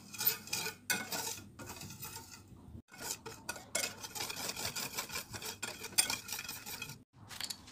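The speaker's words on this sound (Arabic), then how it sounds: "كنحركو مزيان مزيان عاد باش كنضيفو كاس صغير ديال الحليب وكاس صغير ديال الماء" A spoon or whisk stirs a batter of white flour, starch, sugar and milk in a bowl, with a steady close scraping and clinking against the sides that briefly stops a few times.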